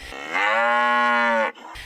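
A single loud, close moo from beef cattle on a farm, one sustained low bellow of about a second with rich harmonics, ending abruptly before quieter background resumes.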